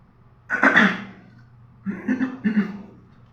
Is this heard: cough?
yes